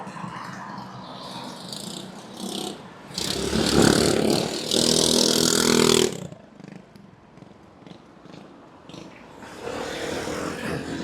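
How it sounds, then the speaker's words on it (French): A Honda ADV 150 scooter rides through busy Bangkok traffic. Engine and road noise swell loudly in the middle, then fall back and rise again toward the end. "donc là actuellement je roule avec un petit ADV 150"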